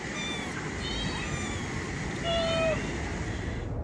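Small kittens meow around a hotel feeding station, a few thin high cries over steady ambient noise, with one clearer, louder meow near the end.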